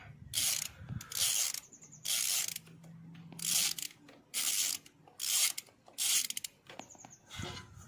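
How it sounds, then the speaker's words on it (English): A ratchet spins in repeated short bursts, loosening the gear oil drain bolt on a Honda SH50 scooter: close, quiet clicking runs separated by brief pauses, about six in succession. "once it gets loose, you can just undo it by hand"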